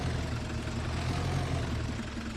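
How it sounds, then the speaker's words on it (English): A tractor engine idles steadily in Farming Simulator 25, a continuous low rumble with no talk, the tractor hitched for work with a seed drill. "this is the best tractor to use with the seed drill"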